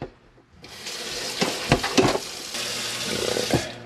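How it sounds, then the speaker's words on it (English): Tap water runs into a pot of chopped apples for spiced cider. After a quiet start, the steady rushing stream begins, with brief splashes as it fills the pot, close and continuous. "So now we got to fill this bad boy with water."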